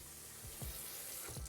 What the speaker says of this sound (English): I'm also going to go ahead and wash off my knife and wash all the potatoey stuff off of it